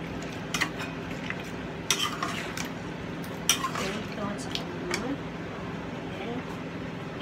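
A spoon stirs stewed oxtail with potato and onion in a pot, soft scraping and clinking strokes over a steady simmering bubble.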